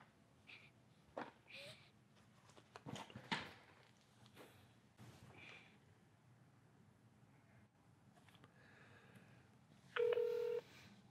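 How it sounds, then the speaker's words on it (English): Mobile phone keypad dialing tones ring out near the end as a short, loud burst of steady tones, following quieter stretches of footsteps, rustling and handling noise while walking. "I'm going to walk around a few steps and try to dial again."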